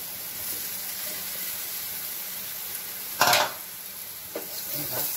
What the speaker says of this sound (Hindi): अब इसमें मैं कटहल जो बॉईल करके रखी थी इसको डाल देती हूँ।